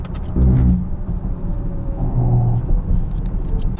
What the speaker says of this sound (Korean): 전반적인 노면 소음, 특히 이제 노면에서 올라오는 타이어 마찰음이 조금 낮은 편인데요